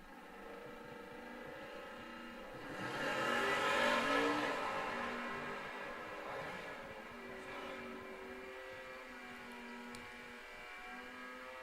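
Distant drag race pass between a Superstock A Hemi 1967 Plymouth and an 8-stock automatic at Bowling Green, a broad engine roar swelling around the middle and then fading against steady crowd and track ambience.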